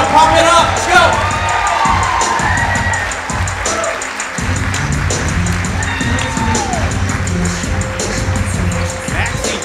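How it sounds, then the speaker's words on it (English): A live storytelling-show audience at the Moth claps and cheers loudly with whoops and shouts, a dense crowd roar sustained throughout with voices mixed in. "Give him a big round of applause."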